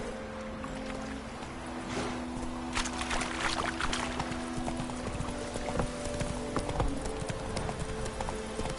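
Roach, the horse in The Witcher 3, gallops with a steady rapid clip-clop of hooves over a constant background of game ambience and a low hum.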